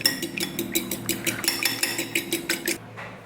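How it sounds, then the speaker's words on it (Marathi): An egg is beaten in a small bowl with quick, rhythmic clinks of a fork or spoon against the dish. About a dozen strokes sound close and bright, then stop abruptly. "आता एका वाटीमध्ये आपल्याला एक अंडं फोडायचं आहे. त्याला व्यवस्थित आहे ना फेटून घेऊ आपण."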